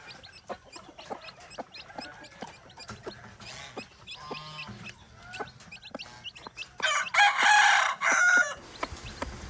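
Farmyard chickens with newly hatched chicks, as a hen leads them down: scattered close clucks and soft scratching, then a louder burst of crowing and high peeping calls near the end, with no talk.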